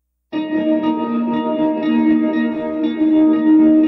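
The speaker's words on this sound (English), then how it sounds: "that is a nice stereo field that we have created with one mono instrument." A sustained mono instrument tone widened with sample delay, phase flip and detuning, spread across the stereo field with a shimmering, chorus-like width, steady and loud with no talking.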